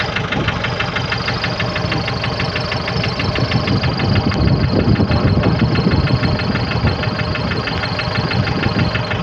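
A loud, steady tractor engine runs close by with a knocking, rumbling idle that swells slightly midway and continues throughout.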